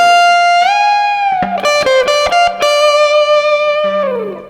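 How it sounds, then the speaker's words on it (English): Distorted electric guitar plays a blues rock lick built on wide super bends: sustained pitch glides and quick picked notes, loud and close, with no talking. "put that together and we have a classic lick for rock and blues"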